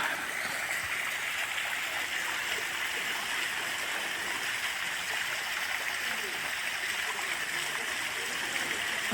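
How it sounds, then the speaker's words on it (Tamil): Fairy Falls in Kodaikanal, running with low water flow, gives a steady, even rush of falling water that fills the whole stretch at moderate loudness without pause. "இந்த ஃபெரி ஃபஸ்ட்டில் தண்ணி கம்மியாக வந்துட்டுருக்கு"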